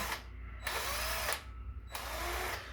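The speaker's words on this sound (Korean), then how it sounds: "이 전동 드릴을 우리 선생님들이 집에서 써보셨습니까 모르겠네." A handheld electric drill in a woodworking workshop runs in reverse to back out a screw, giving two short, loud bursts of motor whine separated by a brief pause.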